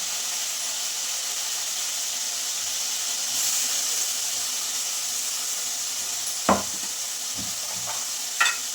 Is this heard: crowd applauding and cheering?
no